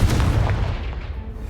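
A Confringo blasting spell in Hogwarts Legacy detonates against a blocking pile of debris, giving a deep, rumbling boom that stays loud and heavy for the whole moment with no talk over it.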